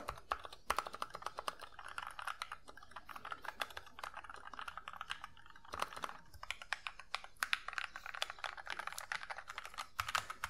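Close, rapid typing on a mechanical keyboard, a dense, steady stream of sharp key clicks and clacks with occasional louder strokes, sustained throughout without any talking.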